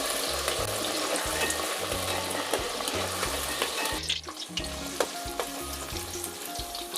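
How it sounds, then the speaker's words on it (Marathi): Beans frying in hot oil for a vegetable biryani give a continuous loud sizzle and crackle, with repeated low thumps and scrapes of stirring throughout. "त्यानंतर आपण आता हे बीन्स तळून घेऊयात"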